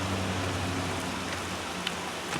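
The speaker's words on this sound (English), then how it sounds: "This is a view from my window. Rain." Rain falling outside an open window on an early fall day, a steady dense hiss with faint droplet ticks, close and even throughout with no voices.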